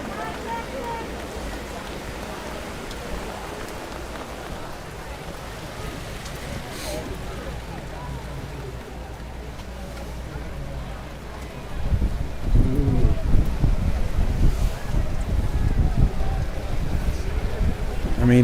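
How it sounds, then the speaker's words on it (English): Heavy rain pours down at a high school football game between Governor Mifflin and Berks Catholic, a constant broadband hiss that swells louder in the last few seconds, with voices faintly underneath. "I mean, it is just incredible, the rain right now."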